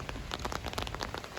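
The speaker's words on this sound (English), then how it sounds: "Oh my gosh, the rain is actually so bad." Heavy thunderstorm rain pounds a surface nearby in a dense, continuous patter with sharper individual drop splashes scattered through it, and no talking.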